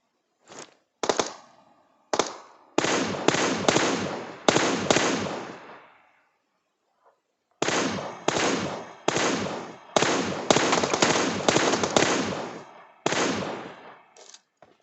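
Gunfire from the mobile game PUBG Mobile during a fight against an enemy squad: loud, close rapid bursts of shots, a pause of about a second and a half, then more dense volleys, with no speech.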